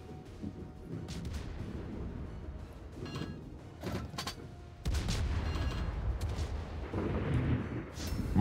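Turrets firing in a video game, a dense run of heavy booming shots and mechanical clanks that grows louder partway through, with repeated impacts and no voices over it.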